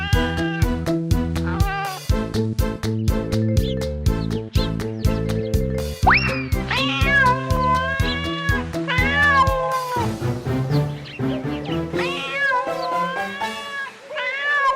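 A cat meows several times in drawn-out, rising and falling cries over a busy, loud musical backing, with no talking.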